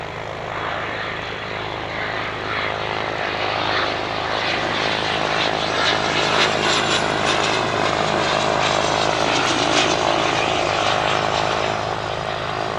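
A Beechjet business jet lands at Spirit of St. Louis Airport, its engine noise a loud, steady roar and whine that swells slightly and holds throughout, with no talk over it.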